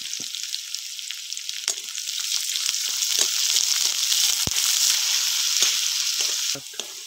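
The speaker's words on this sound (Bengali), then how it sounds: "পেঁয়াজটা কষিয়ে নিয়েছি।" Chopped onion fries in hot oil with garlic paste and slit green chilies, a loud, steady, close sizzle broken by scattered sharp clacks and scrapes of a spatula stirring the pan.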